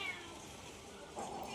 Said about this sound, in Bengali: বিড়াল ডাকছে